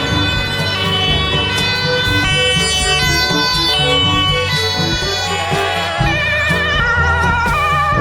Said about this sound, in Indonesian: ada mobil ambulan lagi.